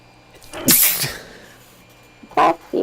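Two sharp human sneezes, the first loud and explosive with a short trailing breath, the second a quicker burst near the end after a pause.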